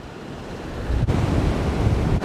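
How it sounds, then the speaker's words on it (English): Strong wind buffets the microphone outdoors beside a Jeep Wrangler, a steady low roaring rumble that swells louder after the first second, with two brief dropouts as gusts catch the mic. "I had to break out the big camera today, man, because it's too windy"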